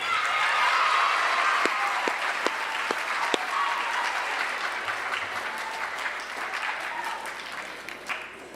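At a junior high school awards ceremony, an audience gives sustained applause that starts full and loud, with a few sharp individual claps standing out, then gradually tapers.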